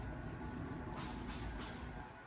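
Crickets and other insects chirp in a steady, continuous high trill outdoors on a warm morning, a constant background drone running through the whole stretch with no talking.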